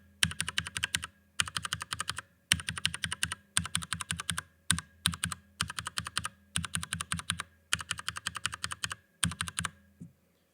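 Bursts of rapid typing on a mechanical keyboard with lubed MX Brown switches, close and crisp: about nine quick clusters of keystrokes separated by short pauses, with a soft, smoothed clack.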